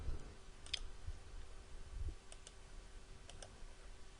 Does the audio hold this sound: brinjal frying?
no